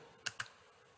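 Two sharp clicks on a computer while choosing a role in Google Classroom, spaced about a beat apart, close and crisp over faint room hiss.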